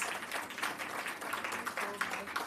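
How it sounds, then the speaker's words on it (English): Audience at an awards ceremony giving a round of applause, soft and somewhat distant, with steady clapping lasting a couple of seconds and voices faintly mixed in. "give her a round of applause"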